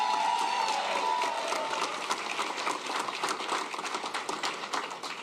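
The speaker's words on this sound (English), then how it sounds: "Give them a big round of applause." A crowd at a Senate concession speech breaks into sustained applause, a dense, steady wash of clapping mixed with cheering that holds throughout at a moderate level, with a faint tone fading out near the start.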